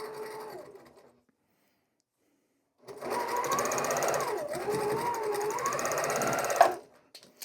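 Sewing machine stitching steadily for several seconds at close range, a loud continuous motor whir with rapid needle chatter that pauses briefly and then stops; faint talk is heard just before it starts.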